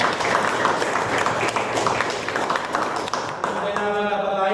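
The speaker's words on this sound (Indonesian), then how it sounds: "Terima kasih, tepuk tangan." A university class claps together after a student's answer. The dense applause lasts a few seconds, then fades as talking resumes.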